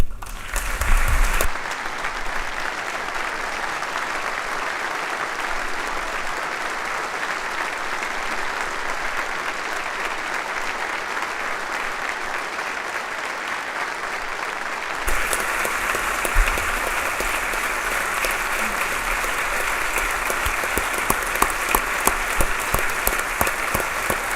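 Sustained applause from a large crowd, steady and full throughout, swelling slightly louder near the end.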